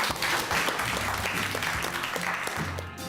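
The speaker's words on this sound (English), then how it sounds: "Let's clap." A class of school pupils claps together in a classroom, producing dense, steady applause that fills the whole stretch at a fairly even level, with faint voices underneath.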